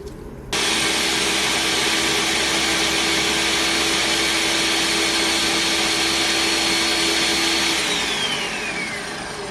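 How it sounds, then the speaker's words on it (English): A kitchen blender whirs loudly through curry sauce and butternut squash, starting abruptly and running steadily for several seconds before its pitch drops as it winds down near the end. "I'm going to put that in a blender."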